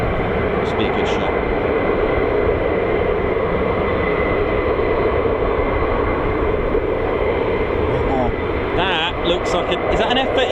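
F-15 and F-35 fighter jets of the 48th Fighter Wing fly near RAF Lakenheath, a continuous loud engine roar filling the scene while people talk over it.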